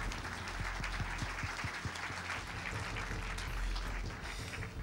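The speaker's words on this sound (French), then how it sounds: "vous pouvez l'applaudir" Audience applause at a sustainable real estate awards ceremony, a broad continuous rush of clapping held at a steady moderate level from a sizable crowd, with a few stronger individual claps near the start.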